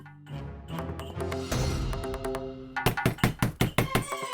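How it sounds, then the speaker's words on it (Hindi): Knocking on a wooden door at night, starting as scattered thuds and ending in a rapid, loud series of sharp raps, with no talk. "संतूरी दरवाजा तो खोल"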